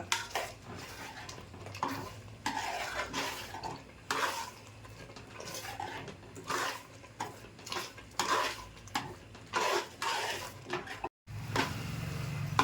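Thick sweet puran filling of ground lentil paste with sugar is stirred steadily in a metal cooking pot, a spoon scraping and knocking against the sides in repeated close strokes, with a brief pause near the end.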